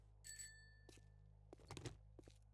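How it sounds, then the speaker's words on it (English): A bell rung in a zombie video game, a short bright metallic ring near the start followed by a few soft thunks and clatters, quiet overall. "Hey, I ring the bell."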